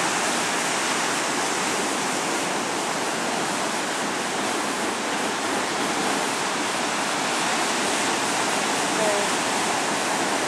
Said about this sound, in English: It's really very wavy and stormy out there.